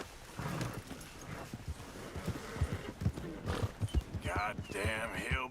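Horse hooves drum in a quick galloping rhythm in Red Dead Redemption 2, with snorts and other animal noises mixed in, while someone speaks over the ride.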